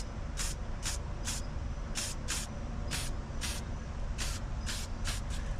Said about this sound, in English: Give this one another practice spray